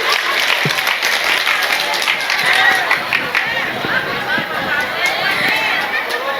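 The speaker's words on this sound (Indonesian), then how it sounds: "Makanya tepuk tangan dulu untuk Dek Bashir." An audience at an Indonesian religious gathering applauds continuously and loudly, with dense steady clapping and crowd chatter mixed in throughout.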